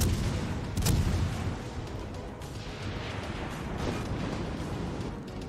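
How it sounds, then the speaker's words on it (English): Naval guns fire from warships in World of Warships as one heavy boom lands near the start, over a continuous low rumble of distant salvos and battle noise. "I'm putting as much fire on him as I can"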